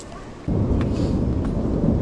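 Thunder and rain inside Batu Caves, a Kuala Lumpur cave temple: a deep, broad rumble swells in suddenly and holds loud and steady, with a continuous rain wash over it.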